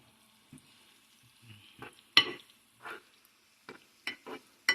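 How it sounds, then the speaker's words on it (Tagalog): Onions sautéing in a pan for a munggo dish, with brief soft sizzles and a few scraping stirs that come in short separate bursts over near silence. "Gisa lang muna natin itong sibuyas."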